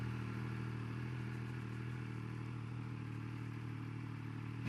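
A 180 hp 2021 Triumph Speed Triple 1200 RS is ridden at a steady engine drone, with thick wind and road rush blended into the sound. The noise stays constant and unbroken with no talking.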